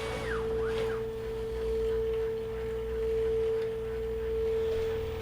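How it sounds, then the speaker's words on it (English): A steady mechanical hum with a strong constant tone and rhythmic vibrating buzz from a Bambu Lab P1P 3D printer running its self-test calibration, swelling slightly in waves, near and continuous. "Your printer will now vibrate like crazy for several minutes."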